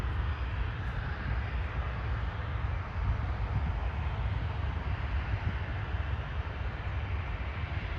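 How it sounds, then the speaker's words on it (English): A Bombardier Challenger business jet at Toronto Pearson airport gives off a distant, steady low engine rumble that holds at an even, moderate level throughout. "This is a Bombardier Challenger."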